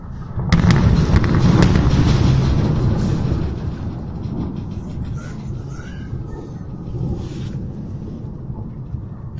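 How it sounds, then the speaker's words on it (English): Nonstop bombardment at a power plant in western Ukraine during war: a loud burst of rumbling blasts and crackling impacts in the first few seconds, then a sustained lower roar of distant explosions continuing underneath. "The video goes on for about another 90 seconds, and it's a nonstop bombardment."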